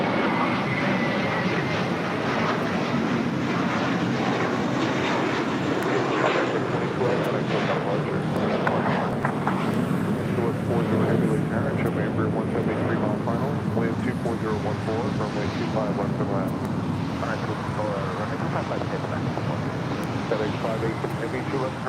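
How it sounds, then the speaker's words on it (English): A FedEx MD-11 airliner touches down on runway 25 left at LAX, its broad, steady jet roar filling the scene with wind rumble as radio voices talk over it. "FedEx MD 11 touching down on 25 left."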